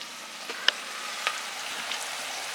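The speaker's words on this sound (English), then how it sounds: "we're going to show you what this is supposed to be looking like as the onions are sweating" Onions sweat in a frying pan for spaghetti sauce, giving a soft, steady sizzle close by, broken by a couple of faint pops or small clicks and no talking.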